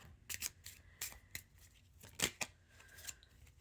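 Tarot cards being handled and drawn from a deck, a quick series of crisp papery snaps and slides, close and fairly quiet, with no talk.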